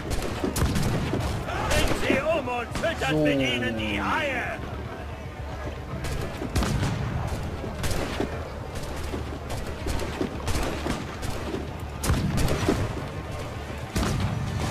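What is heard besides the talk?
ship cannon fire in Assassin's Creed 4 Black Flag video game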